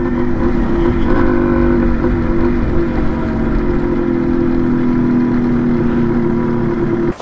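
Yamaha DT125 motorcycle being ridden, a steady close engine drone with a constant buzzing tone and wind rumble throughout, cutting off at the very end.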